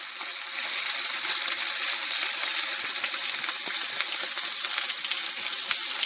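Chicken pieces frying in a shallow layer of oil in a pan, giving a steady close sizzle with fine crackles and pops throughout, no talking.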